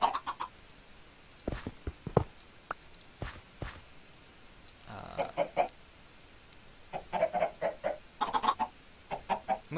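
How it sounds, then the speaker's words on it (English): Chickens clucking in the video game Minecraft, several short bursts of clucks with soft tapping steps, moderately close and alone without talk. "Move, chicken. Move or die."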